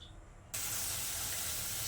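Green beans boiling with green chillies in a pot, a steady hiss of steam and bubbling that rises abruptly after a quiet moment and then holds at an even, close level.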